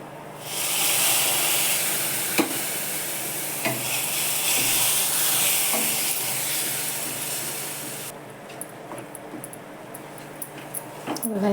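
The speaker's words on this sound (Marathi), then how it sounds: "दूध घालते मी आता" Milk poured into hot semolina sheera, made without sugar, sets off a loud, steady sizzling hiss for about eight seconds, then drops to quieter stirring scrapes and small clicks in the pan.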